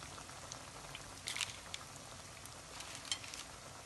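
Quiet, steady sizzling of donut dough frying in oil over medium heat, with a few soft pops and crackles scattered through.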